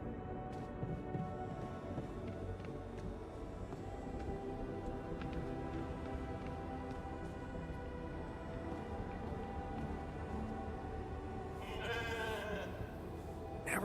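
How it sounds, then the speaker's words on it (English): Sheep bleating in the video game The Alters, a few wavering calls over a steady bed of game music and ambience, with a burst of brighter sound near the end. "Never thought I'd be so glad to see a sheep."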